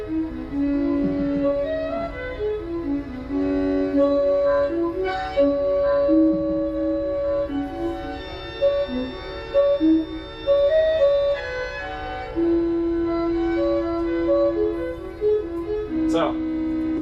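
Yamaha musical siren heard from far off, a melody of shifting sustained tones drifting in and out across open air, moderately loud and steady throughout.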